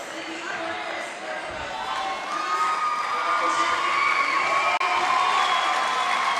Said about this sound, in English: There she is, and she'll get a big round of applause.